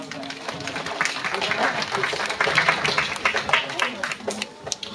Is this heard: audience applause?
yes